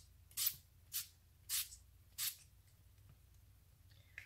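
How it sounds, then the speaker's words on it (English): Four quick, close pumps of Urban Decay All Nighter setting spray misted onto a face, each a short airy hiss spaced about half a second apart, followed by quiet. "using my Urban Decay All Nighter Spray."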